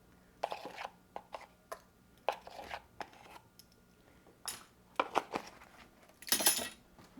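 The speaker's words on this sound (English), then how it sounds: "Also whisk that in so that we don't have any lumps in there." A whisk clicks and scrapes against a bowl while baking powder is worked into almond flour for psyllium rolls dough, in irregular bursts of metallic taps with quiet gaps between.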